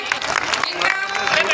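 A crowd at a political gathering in Bulandshahr applauds steadily to welcome a speaker. The clapping is dense and continuous, with a crowd murmur and voices mixed in.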